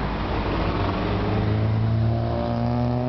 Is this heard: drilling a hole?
no